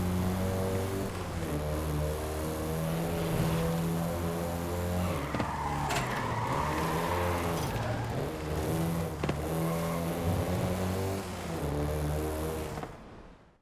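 A Volkswagen Golf GTI races in the Forza Horizon 5 video game, its engine droning loudly and continuously with gear changes and a burst of tyre skidding midway, fading out at the end, no talk.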